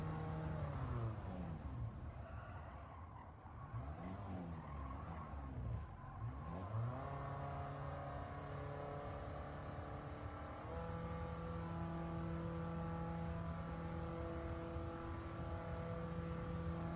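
A car engine in Gran Turismo 7 holds at a constant 5,000 rpm, producing a steady droning rumble with layered harmonic tones that shift slightly partway through and then settle into a flat, unbroken hum.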